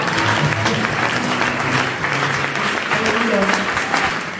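A church seminar congregation claps loudly and continuously, dense, near applause filling the space, with voices and cheers mixed in throughout.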